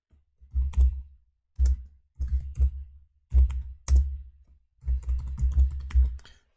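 Random text typed on a computer keyboard, close and clear, in short bursts of rapid key clicks separated by brief pauses, with no talking.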